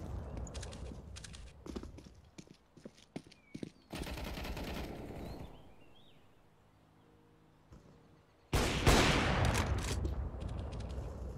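Rapid AK rifle bursts in Counter-Strike: Global Offensive, several sharp loud volleys crackling in quick succession, broken by short pauses and quieter game ambience, then a dense burst of fire near the end.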